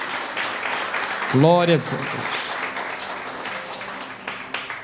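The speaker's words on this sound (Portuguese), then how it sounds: "E as palmas glorificam o nome de Jesus." Church congregation clapping in praise, a continuous broad patter of many hands under a voice briefly speaking over it.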